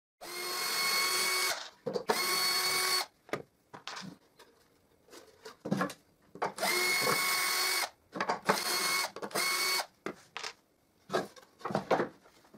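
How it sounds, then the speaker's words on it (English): A power screwdriver backs screws out of the triangular blocks on a wooden 45-degree crosscut jig, with several loud close whirring bursts of one to two seconds separated by short pauses and small handling clicks. "So I unscrew the triangles."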